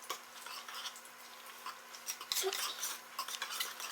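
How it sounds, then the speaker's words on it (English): Cake batter with coconut is whisked by hand in a bowl, giving a steady run of quick, light scraping and clinking strokes that stays close and fairly soft throughout, with no talk. "I'm just going to whisk this until all of the lumps seem to be out of it"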